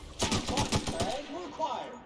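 A quick burst of rapid gunshots in The Outer Worlds on PC, sharp close reports in fast succession that fade out as a voice speaks over the tail.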